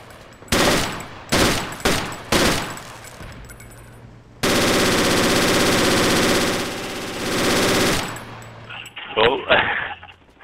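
A bipod-mounted machine gun fires in the Project Reality video game: several short bursts, then one long sustained stream of fire and a few scattered shots at the end.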